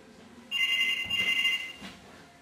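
An electronic telephone rings in a single steady trilling burst of about one second, fairly close indoors and alone, fading out after.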